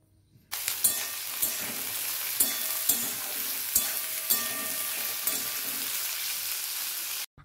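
Potato frying in oil in a hot wok, a loud steady sizzle starting abruptly and continuing throughout, with periodic clinks of a spatula stirring against the metal.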